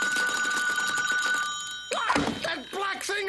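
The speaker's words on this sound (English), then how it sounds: "Wait, that's the phone." An old-fashioned telephone bell rings steadily in a cartoon detective's office, the sustained ring running for about two seconds before animated voices talk over the end.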